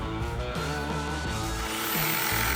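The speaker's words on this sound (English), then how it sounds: "then completing the holes using a jigsaw" A jigsaw cuts steadily through wood, its motor whine continuous and loud with shifting pitch as the blade bites.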